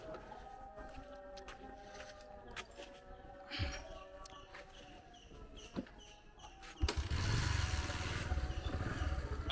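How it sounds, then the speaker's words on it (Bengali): A motorcycle engine sits quietly amid scattered clicks and knocks, then roars into a loud, close, continuous running rumble for the last few seconds. "এখন আমরা মোটরসাইকেল দিয়ে যাব।"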